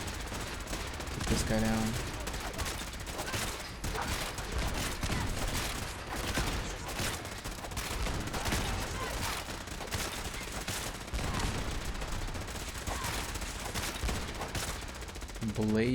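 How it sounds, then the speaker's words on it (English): A Gatling laser in Fallout 4 fires in a sustained, dense rapid-fire stream for nearly the whole stretch. The fire is loud and close, and a voice speaks over it briefly. "Now we got a Gatling laser."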